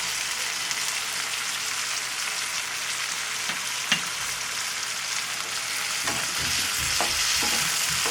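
Onions and capsicum stir-fry in a pan with a spoon each of soy and chili sauce for restaurant-style chilli paneer, a steady loud sizzle with faint utensil scrapes and stirring toward the end.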